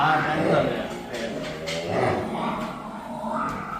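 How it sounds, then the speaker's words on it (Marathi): Buffaloes from Haryana calling out at feeding time, moderately loud bellows rising and falling over a steady barn background, with people talking nearby. "सगळ्या म्हशी आता यांचं टाइम झाले म्हणून वरडायला लागले"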